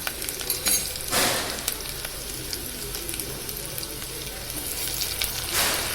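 Tomato pieces frying in a pan with a loud, continuous sizzle close up, broken by a few louder stirring bursts as the pieces are moved around.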